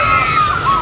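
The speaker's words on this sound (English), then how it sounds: "Oh my god, did you see how much water came in that boat then?" Water sloshes and splashes loudly and close after a boat drops down the Pipeline roller coaster at SeaWorld Orlando, a brief continuous rush of spray.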